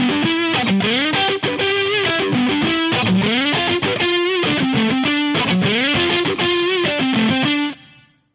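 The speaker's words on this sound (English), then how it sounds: "we should get a really good reverb sound for a lead guitar" Lead guitar with a lush reverb effect, playing a sustained, distorted melodic phrase with bending notes that rings out loud and then decays into a short reverb tail at the end.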